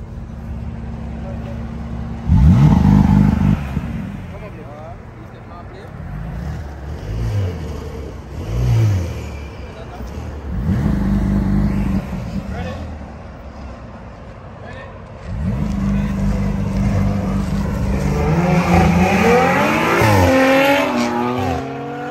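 Audi and BMW M3 with full bolt-ons race side by side, engines revving hard and climbing through the gears in loud bursts, with a short tire squeal, while people talk over the engine noise.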